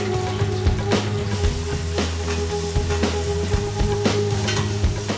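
Ginger garlic paste fries in hot ghee for a paneer dish, giving a steady close sizzle with stirring clatter and spoon scrapes recurring about once a second over a low hum.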